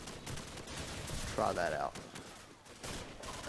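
A short, fairly faint burst of gunfire from a gun in the video game Modern Warfare, with a player talking over the game audio.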